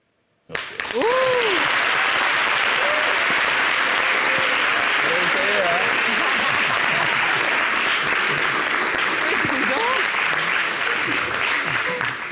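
An audience applauds after an acting performance, a sudden loud, dense ovation that starts abruptly and holds steady for many seconds, with faint voices and cheers mixed in.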